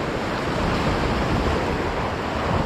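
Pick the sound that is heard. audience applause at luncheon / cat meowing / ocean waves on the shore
ocean waves on the shore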